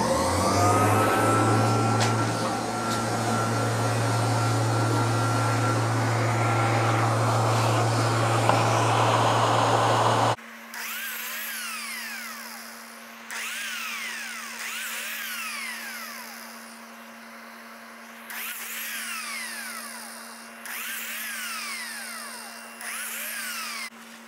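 A dust collection system in a woodworking shop roars with a loud steady motor drone for about ten seconds, then stops, leaving a quieter hum with intermittent whooshing sweeps.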